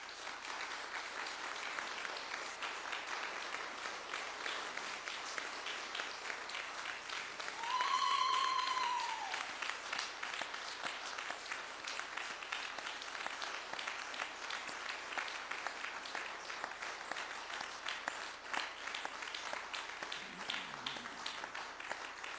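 Audience applause at a panel discussion, a steady wash of clapping held at an even level throughout, with a brief whistle partway through.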